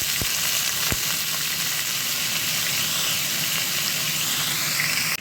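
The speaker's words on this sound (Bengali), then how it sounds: "আর এই যে আলুগুলো আছে ডুমো ডুমো করে কাটা, আলুগুলো দিয়ে দেবো" Diced potatoes frying in hot oil tempered with bay leaf and dried chili give a loud, continuous close-up sizzle with a couple of brief knocks near the start, and no one speaks.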